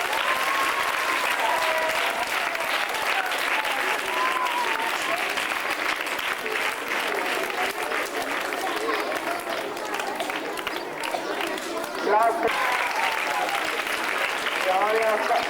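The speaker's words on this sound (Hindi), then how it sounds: "आप उसको तालियां बजाकर मुबारकबाद पेश करें" An audience claps in sustained, dense applause at a school prize announcement, steady and fairly loud throughout with a slight swell near the end and faint voices mixed in.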